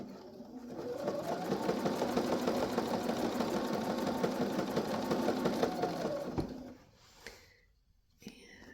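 A sewing machine stitches cording onto a handmade altar pad, whirring steadily and close for about six seconds before stopping, followed by a few faint handling sounds.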